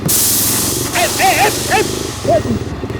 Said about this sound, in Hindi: देखो मेरा टायर पंक्चर हो गया।